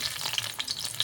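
Chopped onion hits a hot kadai and fries with a lively, crackling sizzle, up close and fairly loud, broken by quick stirring scrapes. No one speaks.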